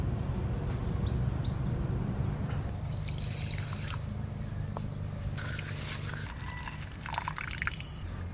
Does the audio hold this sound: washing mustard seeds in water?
yes